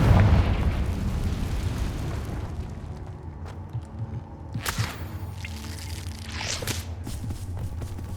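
Confringo spell from Hogwarts Legacy bursting into a loud fiery explosion, a heavy boom at the start trailing into rumbling debris and a few sharper crackling pops afterward, no talking.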